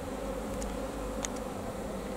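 Honey bee swarm clustering at a hive entrance, a steady low buzzing hum of many bees close by, with a few brief higher flickers of individual bees passing, and no talk.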